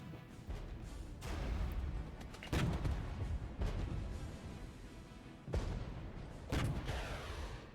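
Rapid air defense gunfire in the Regiments war game, heard as repeated bursts of booming, distant-sounding shots and rumbling impacts that rise and fall over several seconds, with no talking.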